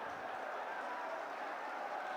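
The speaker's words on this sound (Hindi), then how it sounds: "जोरदार तालियां बजाएं आप सभी" A large outdoor crowd in Mewat claps continuously to welcome Rahul Gandhi, a dense, steady wash of applause heard from a distance without pauses.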